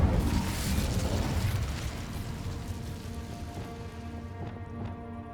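The Incendio fire spell goes off in Hogwarts Legacy with a loud burst of flame up front that crackles and fades over several seconds, a few small pops trailing at the end.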